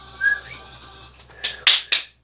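A person whistles to call dogs: a faint, thin whistle early on, then three short, sharp bursts close by, alone with no talking.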